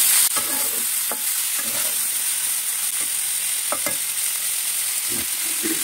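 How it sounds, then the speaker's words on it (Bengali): Vegetables frying in a pan for Bengali sabji khichuri, a steady hiss of oil with intermittent stirring clatter and scrapes, close and continuous, no voices. "কিছু দিয়ে সবজিগুলোকে একটু ভেজে তারপরে খিচুড়ির মধ্যে দিয়ে দেবো"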